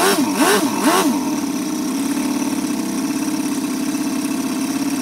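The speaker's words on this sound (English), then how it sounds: "a nice low idle. Without the glow plug hooked up." An FS-L400 model four-stroke engine, straight out of the box on its first start, idles low and steady without the glow plug attached, after a few brief throttle blips at the start. It sounds close and continuous.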